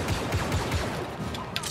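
A blaster firing rapid repeated shots in Star Wars Battlefront II, the bursts loud and continuous over a dense layer of game noise and effects.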